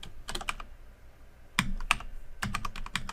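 Someone types on a computer keyboard in three quick clusters of crisp keystrokes separated by short pauses, close and fairly quiet, with no talking.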